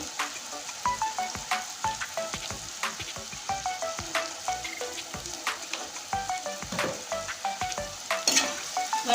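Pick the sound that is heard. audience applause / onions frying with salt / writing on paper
onions frying with salt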